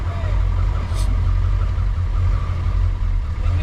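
A junkyard 7.3 diesel engine idling, a loud steady low rumble that stays even throughout.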